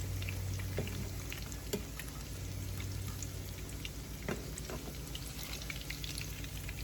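Tortas de pitó (gasparitos) fry in a pan with a steady, even sizzle and occasional small pops and crackles, close and continuous with no voices.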